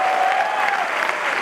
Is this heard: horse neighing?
no